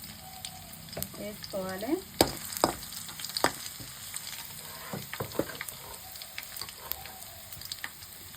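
Crushed garlic cloves, mustard seeds and cumin spit and crackle in hot oil as a tempering for brinjal fry, a busy sizzle with scattered pops while a voice briefly speaks.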